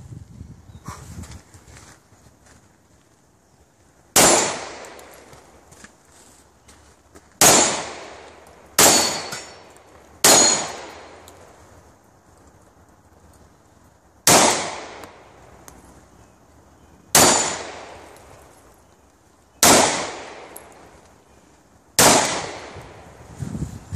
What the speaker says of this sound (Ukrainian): згадаємо, як стріляти з короткоствольної зброї.